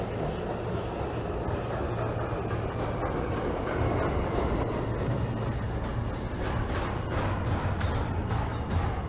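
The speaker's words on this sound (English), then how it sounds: "This is a Manhattan-bound J local train." An R160 subway train in the OpenBVE simulator runs on a J local line, a steady rumbling drone with low motor hum and rail noise throughout, loud and continuous with no talking.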